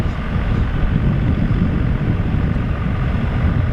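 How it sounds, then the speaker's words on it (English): Steady broadband roar of an aircraft passing over Harrisburg, loud and continuous with a windy, rushing texture and no voices. "So I want you to be able to hear the aircraft sounds."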